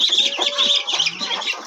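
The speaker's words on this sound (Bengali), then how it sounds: "মুরগিগুলো ছাড়ি দাও, মুরগিগুলো ছাড়ি দাও" Chickens on a small duck farm squawking and clucking loudly and continuously close by, a busy overlapping chorus of agitated calls.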